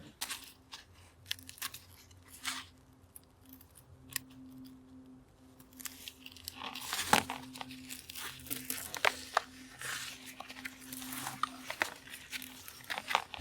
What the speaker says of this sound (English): We'll just push the wire through. And you can see it's cutting it. And we just pull it on through.